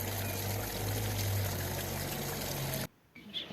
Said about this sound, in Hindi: तो मैं फ़िलहाल अपने गोबर वाले हाथ धो लेती हूँ